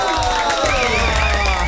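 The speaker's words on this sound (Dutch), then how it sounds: "Applaus voor Ronnie Flex en Mr." An audience cheers and claps for Ronnie Flex and Mr. Polska, a dense burst of applause and shouting with whoops rising over it, loud and continuous throughout.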